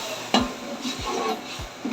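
Ginger garlic paste fried with browned onions in a pan, a steady sizzle under a few distinct scrapes of a spoon stirring through, close and moderately loud, no talking.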